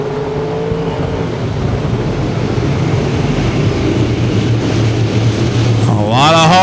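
IMCA Northern Sport Mod race cars roar around Thunderhill Speedway at a restart, a dense, steady engine drone from the field building in loudness, with a commentator talking over it.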